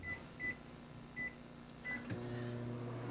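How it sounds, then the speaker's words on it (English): Steady low hum of a running microwave oven heating a dish wrapped in a towel, with faint intermittent high beeps or clicks over the drone and a shift to a louder, fuller hum partway through. "And then I'm going to take it and microwave it"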